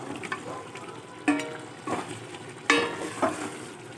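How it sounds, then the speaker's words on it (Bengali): Chicken meat being stir-fried with ground coriander and cumin in a pot, a low background sizzle broken by a few distinct stirring scrapes and clatters, close and unhurried. "মাংসটা অনেকটা কষতে একটু টাইম লাগছে আস্তে আস্তে করে আমি কষাচ্ছি"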